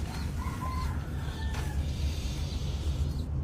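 A small pink-dyed chick peeps in a few faint, high, thin chirps over a constant low hum and background noise.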